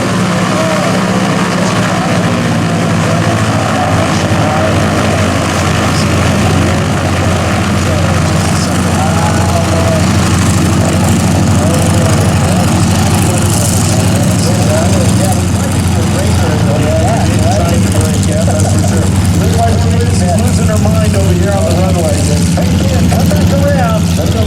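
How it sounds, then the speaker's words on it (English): A Tora replica airplane's big Allison V12 engine slows after landing at a South Plains airshow, a steady low rumble with propeller drone winding down over a long stretch, loud and continuous, with a commentator talking over it. "And that big Allison V12 engine begins to slow down."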